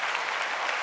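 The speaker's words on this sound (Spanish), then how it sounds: "Un aplauso, por favor." An audience at a Latin American innovation centre launch breaks into brief, dense applause that fills the whole short moment.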